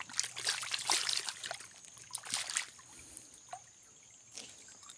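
Water trickling from a tap outdoors, a soft, uneven splashing stream with intermittent bursts and quieter stretches.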